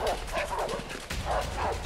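Dogs bark and yip in quick repeated bursts during a chase in the video game A Way Out, close and insistent over a noisy background.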